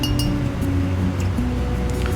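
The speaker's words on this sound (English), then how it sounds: "Let's rinse off this brush." A paintbrush swished and tapped in a glass of rinse water while painting an acrylic paint-by-number kit, with repeated clinking of bristles and handle against the glass, close and continuous.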